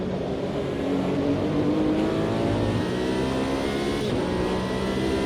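Race cars accelerating in the sim racing game Automobilista 2, engines revving hard coming out of a corner a few dozen meters ahead, a steady, loud, continuous drone with shifting harmonic pitch and no talk.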